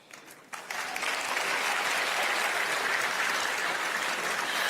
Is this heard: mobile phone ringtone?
no